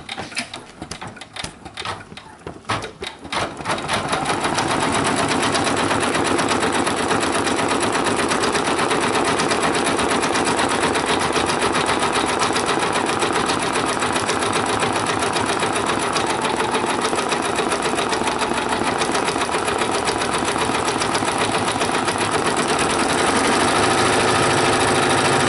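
A computerized embroidery machine stitches a rain jacket hood, running loud and steady at close range with a fast, even mechanical chatter that continues without pause after a brief start.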